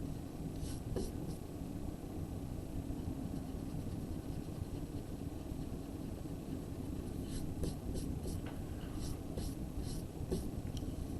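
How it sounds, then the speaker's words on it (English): Pencil lines being erased from paper on a perspective drawing practice page, a steady rubbing scratch that runs continuously at close range beneath a low background hum. "I'm going to erase those diagonal lines that I don't need anymore."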